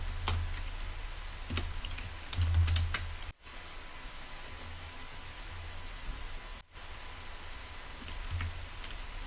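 Soft, scattered keystrokes tap on a computer keyboard in short irregular runs, faint and close, over a steady hiss of room noise during a database programming session.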